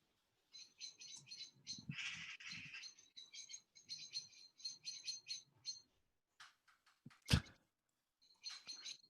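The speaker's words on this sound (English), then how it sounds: "all we get is mang, mang, mang, mang, mang with the seagulls" Seagulls call in quick repeated high cries, fairly faint and outdoors, in clustered series with a sharp knock partway through.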